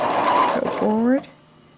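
A sewing machine stitches a straight seam in a fast, loud whirring burst right up close, then stops abruptly, with a voice speaking over the end of the run.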